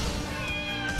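Cat meowing, a single drawn-out meow heard close over a steady background hiss.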